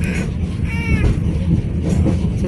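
Interior rumble of an Indonesian commuter train from Pasar Senen toward Cicalengka running on rails, a loud steady low roar with faint wheel squeals and rattles.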